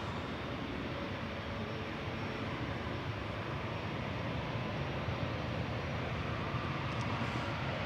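A Singapore Airlines Airbus A350-900, registration 9V-SMT, departing Manchester Airport on flight 52 from Singapore to Houston: a continuous, broad jet engine roar that holds steady and loud throughout, with no voices.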